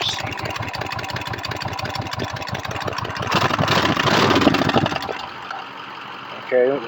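A motorcycle engine, started on choke, runs with a rapid regular putter at idle, then revs up briefly before settling and fading, with a short voice near the end.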